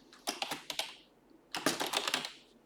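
Typing on a computer keyboard, two quick runs of crisp key clicks separated by a brief pause, close and clear with no voices over them.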